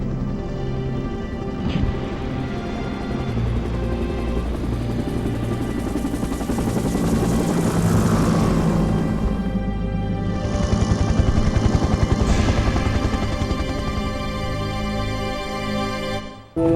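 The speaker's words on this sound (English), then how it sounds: "Chopper's coming in!" A helicopter in Resident Evil 3 on PSX arrives with a steady, loud rotor drone that swells over about seventeen seconds, mixed with rain-like hiss and game music.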